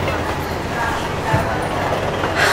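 Train riding on rails through Rome, a steady rumbling wash of wheel and carriage noise at moderate level with faint rhythmic clatter throughout, and a few brief people's voices in the background.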